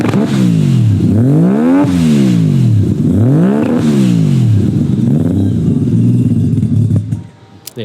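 A Mazda RX-7 with a rotary engine running on E85 revs hard several times, each blip climbing and falling in a loud raspy wail before it settles into a lumpy idle and cuts off near the end.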